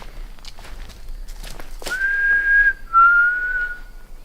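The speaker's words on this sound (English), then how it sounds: "So we'll start off by just whistling and saying the name." Someone in the dark woods whistles two long, steady notes, the second slightly lower, close and clear over faint rustling and footsteps.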